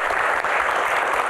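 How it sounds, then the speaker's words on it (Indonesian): Audience clapping in a studio Q&A, a dense, even burst of many hands that stays full and steady throughout the short span. "tepuk tangan buat kita semuanya"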